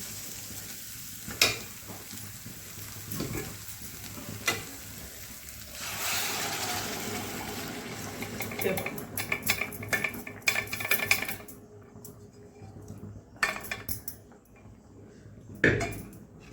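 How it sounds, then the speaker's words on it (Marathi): Cooked tripe (vajdi) added to masala roasted over a low flame, sizzling steadily in the pan with scraping stirs and occasional utensil clinks against the vessel, no talking. "आता आपण शिजवलेली ती वजडी त्यात टाकायची"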